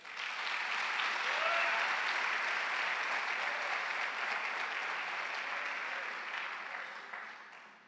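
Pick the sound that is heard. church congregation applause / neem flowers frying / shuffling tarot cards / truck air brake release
church congregation applause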